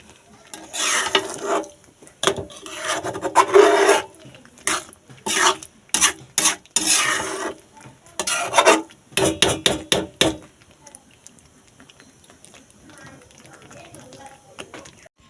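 Sago khichuri stirred and mixed in a pan on low heat, with repeated scraping and rasping bursts of a spoon against the pan, loud and close, then fading to quiet sizzling near the end.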